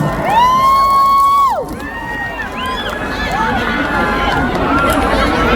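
A crowd at a mor lam show cheers and shouts, with high whoops and children's voices over a loud, dense wash of audience noise that continues throughout.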